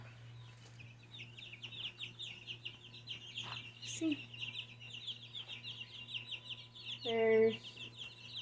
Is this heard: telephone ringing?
no